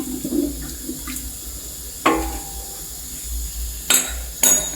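Jeans dipped again and again into a tub of light blue fabric dye water during home dyeing, giving a few irregular sloshing splashes over a quiet background.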